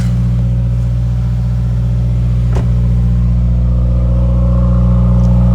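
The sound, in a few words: Subaru WRX engine and exhaust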